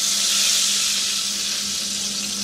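Hot cooking oil in which eggs were just browned sizzles in a steady, loud, close hiss as salt is sprinkled in, with no voices.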